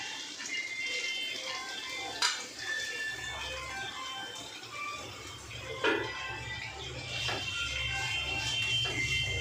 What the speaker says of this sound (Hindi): ऑयल हमारा गरम हो चुका है, अब मैं तमाम प्याज को इसमें डाल दूंगी।